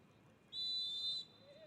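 A referee's whistle at a men's college soccer match, American River College against San Joaquin Delta College, sounds one steady, shrill blast of about two-thirds of a second over faint field noise.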